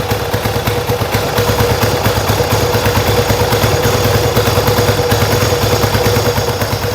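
A Yamaha XS1B motorcycle engine running close up with a loud, steady rhythmic idle pulse, each firing beat distinct and even throughout, with no talk.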